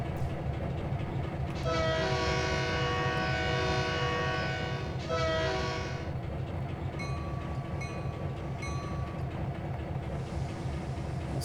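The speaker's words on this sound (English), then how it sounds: "It's got a nice Alco engine sound, but yeah, the bell and the horn are both the same" A diesel locomotive with an Alco engine in a train simulator game rumbles steadily throughout while a loud multi-tone horn blasts twice, one long and one shorter, followed by a few short bell-like chimes.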